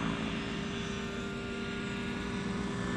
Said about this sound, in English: Aggressive flybarless helicopter.